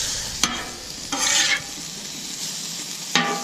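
Food sizzles on a hot Camp Chef 600 flat top griddle with one side lit for shrimp, a steady close fry broken by sharp metal spatula scrapes and clanks.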